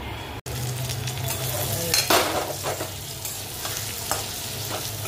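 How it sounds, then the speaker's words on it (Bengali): Potatoes frying in a pan with chili, ginger and garlic, a continuous sizzle with stirring scrapes and a few sharp spatula knocks. "লঙ্কা, আদা, রসুন দিয়ে একটু ভেজে নিচ্ছি"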